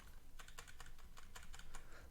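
Rapid typing on a computer keyboard during game programming: a quick, uneven run of soft, close keystrokes at low volume, with no talking.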